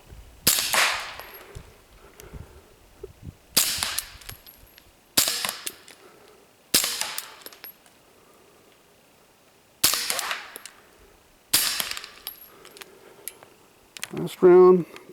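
Six sharp, clipped shots from a suppressed Sig Sauer SP2022 pistol with 147-grain rounds, spaced irregularly about one to three seconds apart, each with a short tail, followed by a brief metallic rattle at the end.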